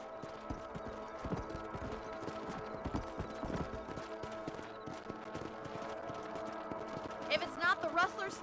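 Horse hooves clip-clop in a steady, fairly quiet rhythm during riding in the Western game Red Dead Redemption, with voices talking over the hoofbeats and a short neigh-like sound near the end.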